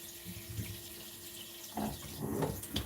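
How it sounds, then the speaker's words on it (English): Water pours onto a houseplant in soil, starting quietly and then running in a louder, splashing stream near the end. "Let me water it a little bit"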